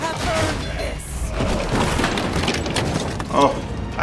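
An explosion in the video game Marvel's Midnight Suns, a dense booming burst with crackling gunfire-like bursts that rumbles continuously, swelling again near the end, with a voice talking over it.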